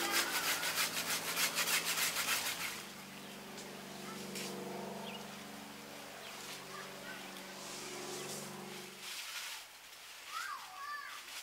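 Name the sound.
saw cutting mango tree branch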